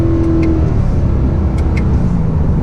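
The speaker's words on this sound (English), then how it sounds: "You got that rich, naturally aspirated V8 sound." A 2016 Corvette Stingray Z51 coupe's naturally aspirated V8 drones and revs up close, a deep continuous rumble filling the clip.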